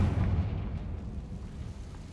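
The Confringo blasting spell explodes in the Hogwarts Legacy video game, already booming loudly at the start and then fading into a dense rumble that tails off over two seconds.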